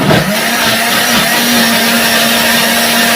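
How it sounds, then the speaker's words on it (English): An old electric blender grinds tomatoes into a paste, running as a loud, steady motor whine with a constant pitch, continuous and close, with no talking. "I blend and blend to ensure that it really becomes like pasty"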